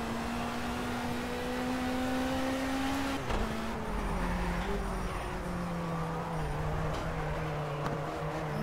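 Engine of a BMW 2002 Stanceworks car in the racing game Project CARS droning steadily at high revs, the pitch sliding down and shifting as the throttle is worked, with a brief clunk partway through and faint speech underneath.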